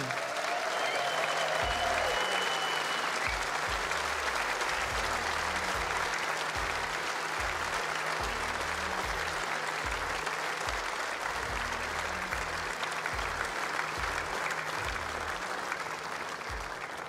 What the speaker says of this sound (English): Please continue that applause for your runners-up for this match